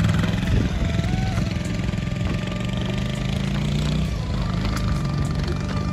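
Motorcycle engine on a mountain road in Rolpa, Nepal, with a buffalo on the road ahead. A steady, close engine drone runs throughout.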